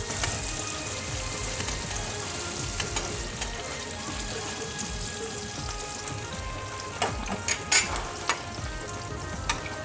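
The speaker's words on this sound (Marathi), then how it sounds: "मांदेली व्यवस्थित फ्राय झालेली आहे." Mandeli fish fry on a tawa with a constant close, loud sizzle and crackle, broken by a few louder pops and spatters toward the end.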